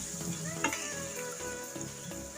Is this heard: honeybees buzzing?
no